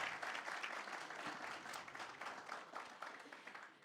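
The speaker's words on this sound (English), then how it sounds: "let's give all of them a round of applause before they begin" Audience applause for young talent show participants at a district talent hunt program, a steady wash of clapping from many hands lasting the full few seconds without any talk.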